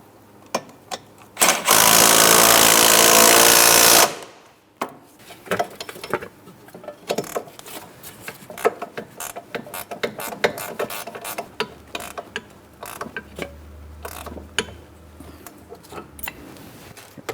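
A ratchet tightens wheel hub bolts on a 2003-2007 Cadillac CTS, with a loud burst of power-tool whirring followed by many quick close ratcheting clicks in uneven runs.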